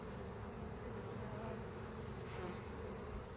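Honeybee colony in a spring apiary humming as a steady, dense buzz, close and continuous with no pauses and no talk over it.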